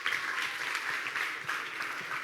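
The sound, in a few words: applause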